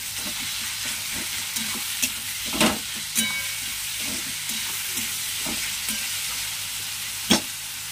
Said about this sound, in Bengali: সবসময় পেঁয়াজে নুন দিয়ে দিবেন, দিলে পেঁয়াজটা তাড়াতাড়ি ভাজা ভাজা হয়ে যায়